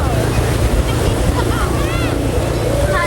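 Beach waves and strong wind at a seaside shore, with constant rushing surf and buffeting wind noise on the microphone, plus faint voices and a passing motorboat-like drone.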